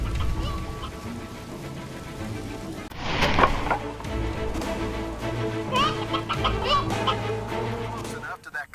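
Chickens cluck in the Twisted Arrow video game, their short squawks and clucks rising over a steady game soundscape with a sharp burst midway, fairly loud and near.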